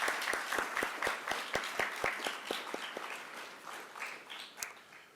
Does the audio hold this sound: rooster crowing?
no